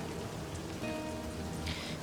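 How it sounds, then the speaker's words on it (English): Rain splatters onto paper in the video game Livber: Smoke and Mirrors, a close, continuous patter of drops with a brief faint tone partway through and a slightly brighter splash near the end. "Raindrops splatter on the paper,"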